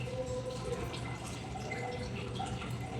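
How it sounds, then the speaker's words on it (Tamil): Oil pouring into a pan of lung gravy, a soft steady trickle and dripping of liquid running continuously throughout at moderate level, with no voices. "எண்ணெய் ஒரு 10 ml ஊற்றிங்க."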